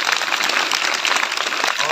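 Schoolchildren at a government school event clap together, a loud, busy patter of many small hands that holds for the full stretch, with voices mixed in under it.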